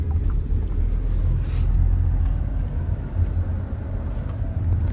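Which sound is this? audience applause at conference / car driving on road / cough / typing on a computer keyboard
car driving on road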